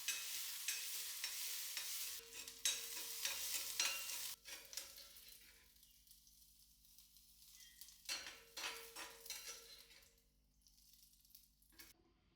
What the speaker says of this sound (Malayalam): ഇനി നമുക്ക് വെളിച്ചെണ്ണയിൽ ചെറിയ ഉള്ളി വഴറ്റി ചേർക്കണം